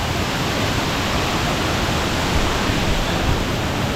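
Steady, loud broadband rush of a waterfall at a national park in Kanchanaburi, Thailand, a dense continuous roar with no breaks and no voices.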